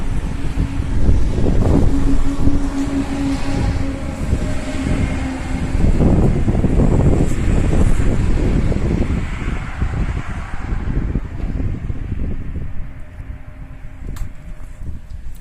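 A high-speed rolling door runs with steady mechanical whirring and rumbling, fairly loud and continuous, easing off slightly toward the end.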